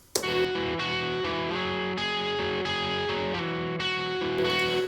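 Electric guitar played through a Fender Vibro King amp and an OCD overdrive pedal in the Amplitube 5 Max plug-in, ringing chords with a crunchy distorted tone, changing every half second or so, loud and alone.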